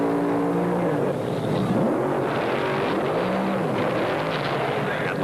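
A pair of 1970s drag racing funny cars roar off the line and pull away down the strip, a loud, dense engine howl with rising and falling pitch sweeps as they recede.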